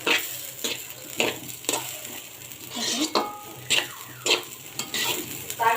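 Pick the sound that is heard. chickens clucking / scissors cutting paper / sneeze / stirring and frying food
stirring and frying food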